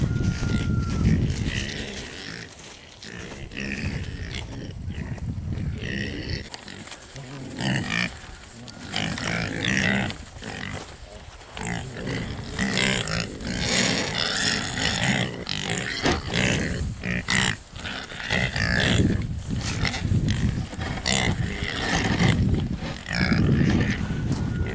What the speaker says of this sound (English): See, the pigs know it's time to eat.